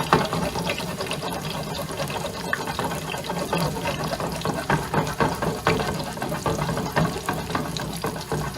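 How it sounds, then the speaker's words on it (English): Schnitzel fries in shallow oil in a pan, sizzling and crackling up close with irregular bursts of popping spatter over a steady hiss, without speech. "Of course you want that sizzle at the beginning, right?"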